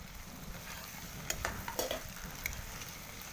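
Taro stolons frying in a wok, a steady close sizzle with faint stirring scrapes and a few sharp metallic clinks, no talk.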